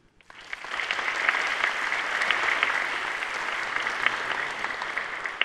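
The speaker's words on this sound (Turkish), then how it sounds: "Değerli ödül sahiplerimizi alkışlarınızla tebrik etmeye ne dersiniz?" A large audience at the 2021 Necip Fazıl Awards ceremony applauds the award winners. The clapping swells quickly from silence into a sustained, even roar of many hands that holds steady throughout.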